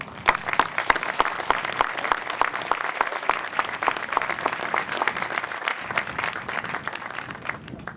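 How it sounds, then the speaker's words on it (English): Audience applause at a US Army garrison change of command ceremony in Stuttgart, continuous crisp clapping from a crowd, with individual sharp claps standing out, steady and moderately distant for eight seconds. "Please join me in giving Lisa and the entire Dickenson family a round of applause."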